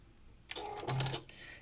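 A sewing machine stitches two pieces of quilting fabric in one short, quiet burst of mechanical whirring and rattling lasting under a second, set against near silence.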